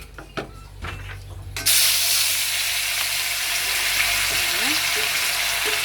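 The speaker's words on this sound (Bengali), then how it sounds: "মাছটা ভাজা বসাবো।" Halua fish dropped into a hot wok with oil: after a few handling knocks, a sudden loud hiss bursts in and settles into a steady, close, sustained sizzle, with faint voice underneath.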